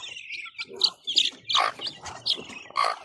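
Newly hatched chicks in a backyard give repeated high, thin peeps in quick irregular bursts, close by, with brief gaps between calls.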